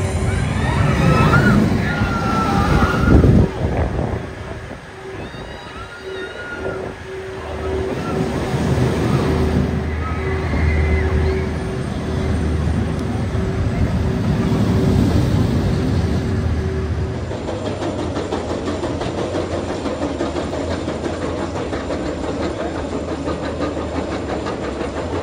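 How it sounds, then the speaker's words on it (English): The Icon roller coaster at Blackpool launches: a loud rushing roar builds and sweeps past, with whooshing, rumbling mechanical noise and wind, then settles into a steady distant hum. "Here's Icon about to be launched."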